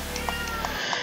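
A pet cat meows three times in quick succession, the calls fairly close and clear over a steady background of arcade game sound.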